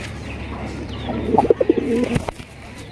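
A Raj Golla pigeon coos close by in a quick burst of several short, throaty notes over a low background, then falls quiet.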